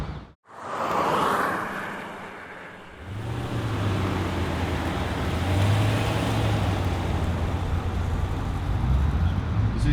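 A Jeep Grand Cherokee SRT8 driving, with steady road and engine rumble building after a brief quiet start and a low engine drone rising and holding for the rest of the clip.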